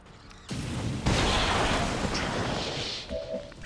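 A flamethrower burst from the video game XCOM 2: a sudden loud roaring whoosh of flame, a second heavier surge, then sustained crackling rushing fire that slowly fades, with a small metallic chime near the end.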